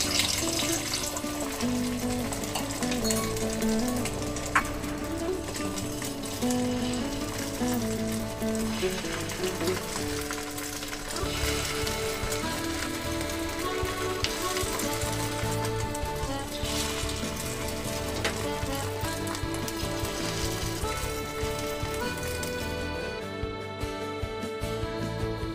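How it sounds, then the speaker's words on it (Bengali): Egg omelettes fry in a little oil on a griddle set over a gas flame, giving a steady, continuous sizzle that stays up close and fairly loud throughout, with soft background music and no talking. "তেল গরম হয়ে গেলে এবার আমি অমলেটগুলো ভেজে নেব"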